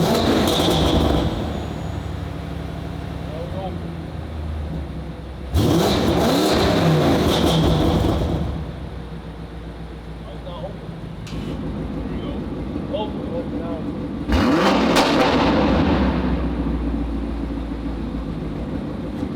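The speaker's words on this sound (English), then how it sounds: "Let me rev it, valves closed first," A BMW M550i fitted with a titanium Alibaba exhaust revs with its valves closed, giving loud, close engine blips that swell and fall in two or three bursts over a steady idle rumble.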